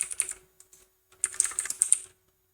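Quick bursts of clicky keystrokes on a computer keyboard, close up, in two flurries separated by a short pause with a few stray taps, no voices.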